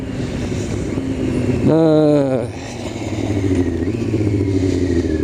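A Serpent ZA radio-controlled car engine running, a loud buzzing drone with a brief rising whine partway through, then settling back to a rough steady idle.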